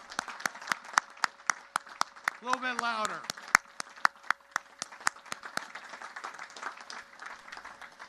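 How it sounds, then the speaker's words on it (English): A sparse crowd in rainy outdoor stands at a Naval Academy graduation claps in scattered, distinct claps, while someone speaks briefly over the clapping. "give them a standing ovation for what they've done. A big round of applause for your parents."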